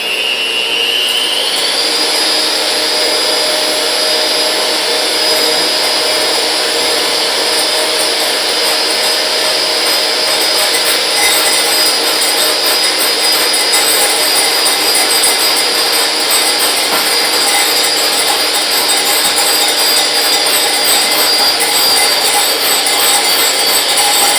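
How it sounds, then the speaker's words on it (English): Electric mixer beating egg whites to a froth, a loud, steady high-pitched whirring drone that runs continuously and alone throughout. "if any recipe ever calls to beat your egg whites until frothy, that's what it looks like"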